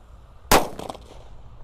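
A sunflower firecracker goes off with one sharp, loud bang, followed by a short crackling fizz that fades over about a second. No one speaks.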